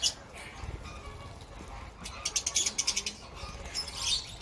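Lovebirds chirp in a rapid run of sharp, high tweets, some nearby, with softer calls before and after.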